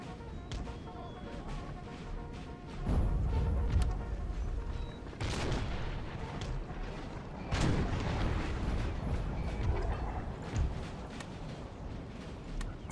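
12-pounder cannons fire in a Napoleon Total War battle, heavy booms landing every few seconds over a steady din of distant battlefield noise, with no talking.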